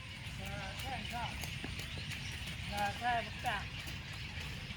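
Horses loose in a rain-soaked paddock clop around at a distance, with scattered hoof sounds under someone talking and steady outdoor background noise.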